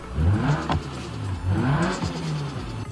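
A 1.6 litre inline-4 turbo car engine in BeamNG.drive revs up and falls back twice in close succession, loud and alone with a whirring rise and dip.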